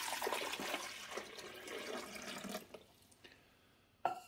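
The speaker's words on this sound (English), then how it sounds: "we're going to put the 2 cups of vinegar right where the water goes," Distilled white vinegar pours steadily into the water reservoir of a Hamilton Beach FlexBrew coffee maker, a continuous liquid splashing that tapers off, followed by a brief plastic clunk near the end.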